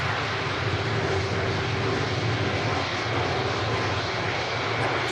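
Heavy jet aircraft at Manchester Airport roar loudly and continuously, a dense, unbroken engine rumble with steady intensity and no voices.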